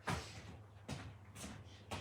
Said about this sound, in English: I'm just gonna shut the door.